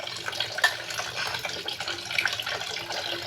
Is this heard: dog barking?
no